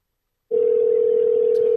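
An outgoing telephone call sounds a steady single electronic tone that starts abruptly and holds evenly, fairly loud and alone, with a faint click near the end.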